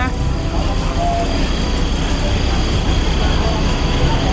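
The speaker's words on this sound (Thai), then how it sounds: "เครื่องยนต์น่าจะใหญ่ครับ น่าดูเลย เพราะว่า ความสั่นสะเทือน นะครับ ดังไปทั่ว โบกี้นะครับ" A heavy train engine rumbles steadily with a constant low vibration throughout the carriage, loud and close, heard from inside a moving train carriage.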